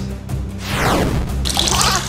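Water pouring in a video game, heard as a steady, loud, close rushing wash with a sweeping whoosh partway through and a brighter splashing texture toward the end.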